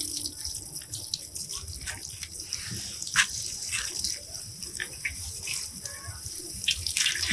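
Water is poured by hand onto the leaves of a rose plant outdoors in summer heat, a steady soft splashing and trickling with occasional drips and light spatters, alone and without talk.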